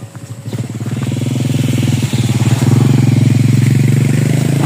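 A motorcycle engine rumbles close by, starting with a chugging idle that builds into a steady, louder drone.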